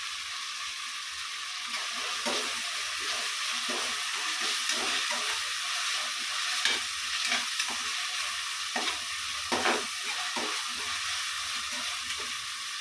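Ghee rice masala with mint and coriander leaves fries steadily in a pan, a continuous close sizzle broken by repeated scraping stirs of a spoon, with no talking.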